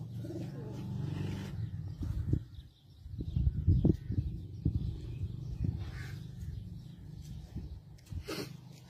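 Shaheen pigeons kept by a fancier in Issa Khel coo softly in low, murmuring bursts with a few sharper flutters and calls, continuous and close, without talk.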